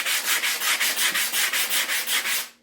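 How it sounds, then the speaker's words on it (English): Sandpaper rubbing over a foam pool noodle in steady back-and-forth strokes, about a dozen even, close scratchy passes with a regular rhythm and no talking. "The sandpaper takes that shine off, and it makes it just a touch furry as well."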